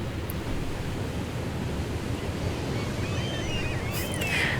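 Video game water with waves washing in a steady, broadband surf-like rush that continues without a break, plus a faint brief tone near the end and no talking.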